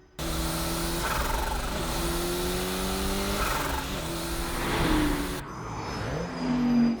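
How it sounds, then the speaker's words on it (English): Race cars rev and accelerate through narrow residential streets toward a T-junction corner, engines droning loud and steady with rising pitch sweeps as they pass, building toward the end with no talk. "Both cars are navigating narrow residential streets on their way to the T-point corner."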